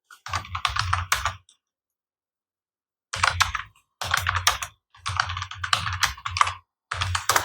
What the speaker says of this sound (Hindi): अब यहाँ पे हम लोग टाइप करते हैं